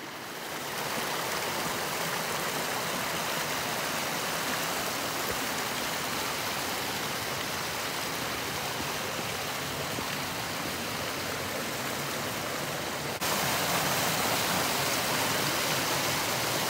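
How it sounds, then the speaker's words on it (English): Mountain creek in a wilderness area flowing steadily, a constant close rush of water with no talk over it. "What a creek from all the way up there, just a trickle."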